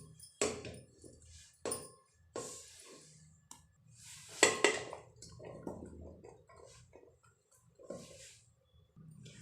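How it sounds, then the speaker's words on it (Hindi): Chunks of carrot, beetroot and tomato drop into a pressure cooker in several separate knocks and thuds spaced a second or two apart, with softer clatter between them in a quiet kitchen. "चुकंदर काटने के बाद अब हम गाजर, चुकंदर और टमाटर को एक कुकर में डाल देते हैं।"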